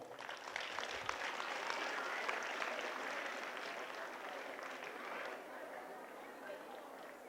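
An audience at a holistic education workshop claps together in dense, sustained applause that runs the whole stretch and fades slightly toward the end.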